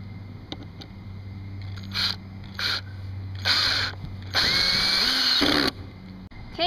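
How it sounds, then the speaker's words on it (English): A power drill whirs in several short bursts, spinning up and down as a 3-inch screw is driven into pre-drilled wood, ending with one longer, louder run. "take your 3-inch screw and drill it in there"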